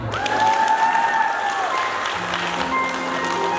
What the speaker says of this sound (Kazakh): Сөйтіп Маржан дәдемізге бүкілі шапалақ ұрды.